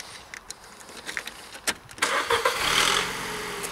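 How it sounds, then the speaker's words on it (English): A 2006 Ford Focus 1.6 Ghia petrol engine clicks and cranks a few times, then catches and settles into a steady close-up idle. "I'll just start the car so you can hear it running"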